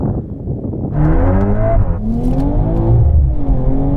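A modified hot hatch accelerates hard off the line in a quarter-mile drag race, the engine note climbing loud and close through rising revs with a brief gear change midway.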